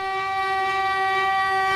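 A train whistle blows a sustained, steady, loud tone, a long harmonic blast over the low rumble of the passing train, with no voices.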